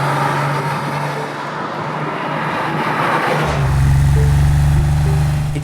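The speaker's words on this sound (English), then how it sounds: "There's something amazing about that air-cooled sound." An air-cooled Porsche 911 SC engine runs steadily and loud, with a deeper, stronger engine note rising partway through as it pulls harder.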